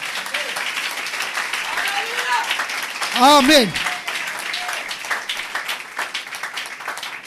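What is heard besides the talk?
congregation applauding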